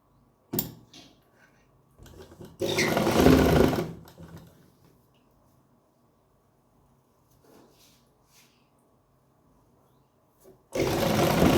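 A sewing machine stitches a salwar in short bursts: a brief run, a longer whirring stretch, then a final run after near silence.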